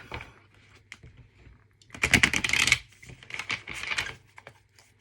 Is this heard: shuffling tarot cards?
yes